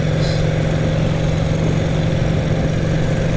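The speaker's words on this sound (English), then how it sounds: "the sound is just that unmistakable offbeat V-twin sound" A 1938 Vincent Series A Rapide V-twin motorcycle engine running at road speed with its offbeat V-twin beat, a loud, steady and dense drone heard close up throughout with no break.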